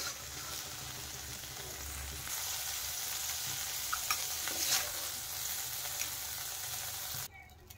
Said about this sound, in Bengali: দেখেন চিংড়ি মাছগুলো কিন্তু আমার ভাজা হয়ে গেছে।